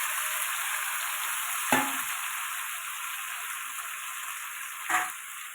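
Thinly sliced potatoes coated in mustard paste fry in oil in a wok, a steady, even sizzle broken by two brief clanks of stirring.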